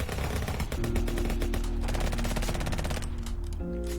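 Rapid automatic assault rifle fire in the voxel game Voxel Turf, a dense, continuous stream of shots close up over loud game sound with a steady droning tone underneath.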